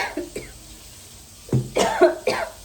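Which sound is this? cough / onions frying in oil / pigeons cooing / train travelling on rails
cough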